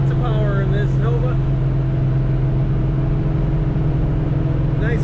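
A 1966 Chevrolet Nova cruises on the highway with a steady, loud, low engine drone from inside the cabin, and someone speaks briefly over it at the start.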